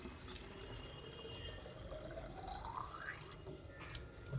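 Water fills a filter jar in a home kitchen with a soft, steady trickle and a rising pitch as the jar fills, plus a few faint drips, quiet and close.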